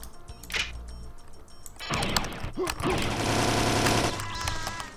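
A railgun fires in System Shock, starting with a short sharp burst, then a roughly two-second loud, crackling discharge with whirring, warbling tones before it trails off into a faint hum.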